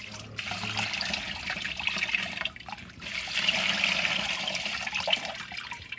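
Water pours steadily into a bucket while a canister filter is cleaned, a continuous splashing gush with a brief dip midway, fairly close and without talk.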